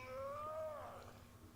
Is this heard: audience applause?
no